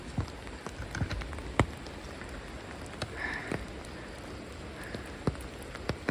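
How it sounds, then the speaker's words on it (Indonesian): Rain falling at night near an old Dutch-era bridge at Kedung Pengilon, a steady soft patter with scattered sharper drops close by, no talk over it. "Hujan cuy."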